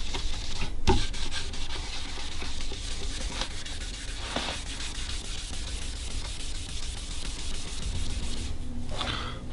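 Orange stain being rubbed by hand into a quilted maple guitar top gives a continuous soft, close rasping swish, with a brief sharp knock near the start and no talking.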